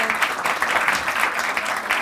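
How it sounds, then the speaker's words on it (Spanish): Audience applause at a talk on COP25 in Chile, a steady dense wash of many hands clapping, fairly near and even throughout with no break. "Démosle un fuerte aplauso"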